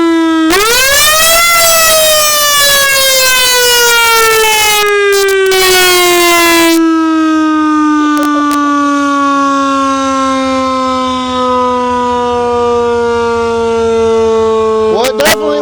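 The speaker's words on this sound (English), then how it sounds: "ready for the siren?" A siren on a 1970 ambulance winds up in a loud rising wail, holds a long steady tone, then slowly winds down. Brief clicks and a short second burst come near the end.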